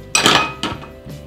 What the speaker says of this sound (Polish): I znowu mieszam.